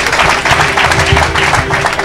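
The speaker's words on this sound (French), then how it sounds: "Acclamons le Seigneur. Clap for the Lord." A congregation claps for the Lord at a church deliverance service: dense, continuous applause with a steady rhythmic beat, loud and close, filling the whole moment without talk.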